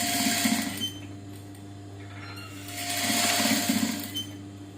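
A tailoring sewing machine stitches a blouse in two bursts of rapid, close mechanical whirring and clatter, separated by a quieter pause, over a steady low motor hum.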